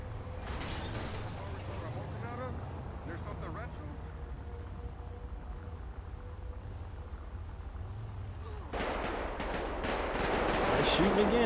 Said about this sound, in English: Again, I hear some more gunshots.